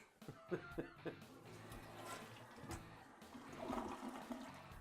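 A household toilet flushes just after a fill valve repair, a rushing, gurgling surge of water that swells and then settles into a steady refill trickle, close by and fairly quiet, with a brief cough or throat sound early on.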